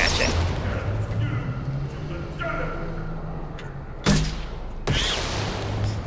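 Guns firing at pyjacks in Mass Effect 2, with heavy booming shots and thuds sounding under steady talking. Two sharp loud blasts stand out toward the end.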